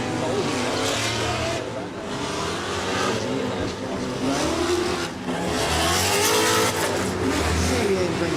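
Drift cars chase each other at a drift event, a high-power car pursuing a lower-powered one, engines revving and surging with tire noise, loud and continuous as commentators talk over it.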